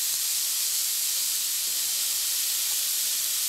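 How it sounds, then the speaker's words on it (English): Asparagus sautes in a hot pan as minced garlic goes in, giving a steady, even sizzling hiss that holds for a few seconds with no talking. "After it's sauteed for around 4 minutes, I'm going to add my minced garlic."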